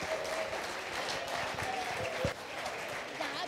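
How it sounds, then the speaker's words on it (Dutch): Church congregation at an evening service applauding as young people walk forward to the stage, a fairly faint but continuous wash of clapping with a few louder claps and some voices underneath. "Zullen wij ze een applaus geven terwijl ze naar voren lopen?"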